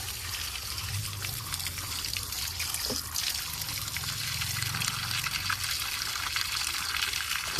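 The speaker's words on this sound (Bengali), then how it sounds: "আমি এরকমভাবে জলের মধ্যে রুটগুলোকে একটু ধুয়ে নিতে হবে।" Adenium plant roots being swished and rinsed in a container of water, a steady close watery trickle and splashing running throughout without speech.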